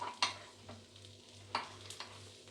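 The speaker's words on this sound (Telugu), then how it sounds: "చూడండి, అన్ని విధంగా అటు ఇటు తిప్పుకుంటూ ఫ్రై చేసుకోవాలి." Paniyaram made from idli batter fry quietly in a pan with a soft, constant sizzle. They are turned from side to side, and a few sharp clicks of the utensil stand out over the low hum.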